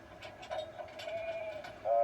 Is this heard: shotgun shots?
no